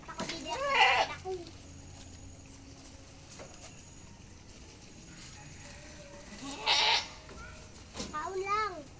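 Goats on a farm in Sorsogon City bleat during rainy-day feeding, with two loud, close bursts at the start and near the end, plus another call after. A person speaks quietly in between.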